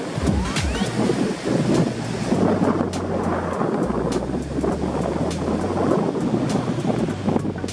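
Strong onshore wind buffets a handheld camera microphone on a cold Sea of Japan beach, a constant loud rumbling roar mixed with breaking surf and occasional gust pops, with no voices.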